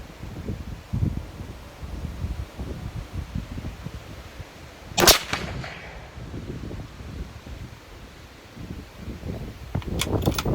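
A single sharp rifle report at a 200-yard benchrest range, cracking out once midway through, set against steady gusting wind noise buffeting the microphone in roughly 40 mph winds.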